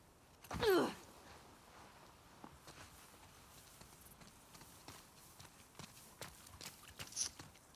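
Horse hooves clip-clop in The Last of Us Part II, one loud close burst of hoofbeats near the start, followed by faint scattered steps and rustles in a quiet scene.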